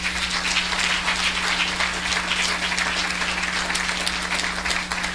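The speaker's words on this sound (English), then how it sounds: "I want you to give a clap offering unto them" Sustained audience applause fills a church service, a dense, even roar of many hands clapping together at close range without pause.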